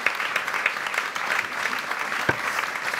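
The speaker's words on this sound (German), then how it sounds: "Ein Applaus." Film festival audience giving a short round of applause, a fairly close, lively patter of many hands with a few sharper individual claps standing out.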